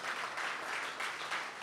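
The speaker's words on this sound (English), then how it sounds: "So they've just won gold, which I think deserves a round of applause." Audience applause at an ice hockey league fan forum, a dense, even wash of many hands clapping in a room, moderately distant and sustained with slight swells.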